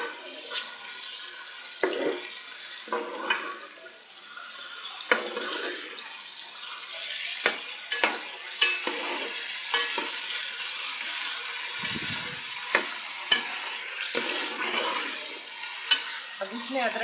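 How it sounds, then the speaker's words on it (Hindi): Beef for nihari sizzles in a pot with steady hissing fry and repeated scraping clinks of a spoon stirring against the metal, close and fairly loud, with no talking. "गोश्त को अच्छे से भूनूंगी पहले।"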